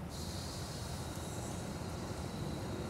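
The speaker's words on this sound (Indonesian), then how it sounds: "kebetulan tuh suara kereta" A train passes, heard as a broad, steady, distant rumble with faint high metallic hiss and no clear peaks, continuous and low in level throughout.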